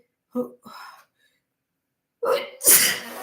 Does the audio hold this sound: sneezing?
yes